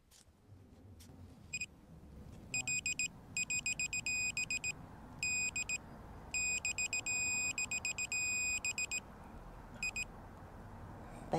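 A digital torque wrench tightening a spark plug on a Honda GoldWing 1800 to 13 pound-feet emits bursts of rapid, high electronic beeps, repeating in clusters over a quiet background of faint mechanical rustle.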